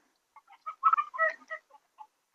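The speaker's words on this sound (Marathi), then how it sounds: "कोंबड्या असं मोकळ्या वातावरण फिरू शकतात, चांगले हेल्दी राहू शकतात" Free-range desi chickens on a farm near Pune give a short, uneven burst of clucks, quiet and fairly close against a silent background, with no one speaking.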